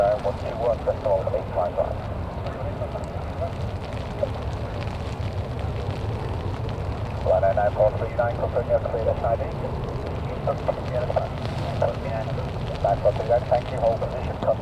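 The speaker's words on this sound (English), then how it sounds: "So the Ryanair heading for the runway" A Ryanair airliner taxiing toward the runway at Manchester Airport during Storm Claudia, a steady low engine rumble with wind beneath frequent radio talk.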